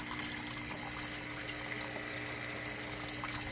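Water gurgles and rushes steadily through an aquaponics grow-bed system with an air hose fitted, a continuous close wash of flowing liquid as the siphon shuts itself off.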